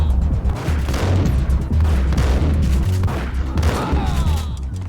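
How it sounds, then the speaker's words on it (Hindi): Shotgun blasts in Max Payne 3 crash out loud and close, several heavy booms in quick succession amid a chaotic barrage of gunfire and impacts. "अरे भाई शॉटगन चेप दी इसने तो"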